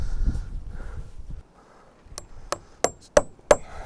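Four or five sharp hammer strikes drive a nail into timber in a tiny-house build. The close, ringing blows come at a quickening pace after a quieter stretch of rustling.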